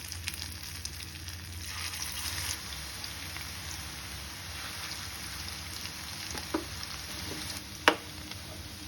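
Chicken pakoras fry in white oil in a pan with a steady, moderate sizzle throughout, broken by a couple of sharp pops or stirring clinks near the end.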